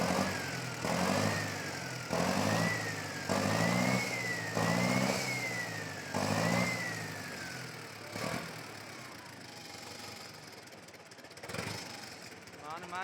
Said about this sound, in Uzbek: Motor tashlashdi.